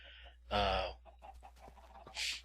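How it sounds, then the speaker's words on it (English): Chickens in the Minecraft video game, a short loud cluck followed by faint scattered clicks and another brief cluck near the end, quiet background otherwise. "Hello, chickens."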